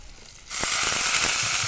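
Rohu fish pieces drop into hot oil and a loud, bright sizzle bursts in suddenly, then holds steady with small crackles and pops close by.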